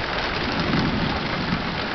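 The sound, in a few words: thunder and rain during a late summer storm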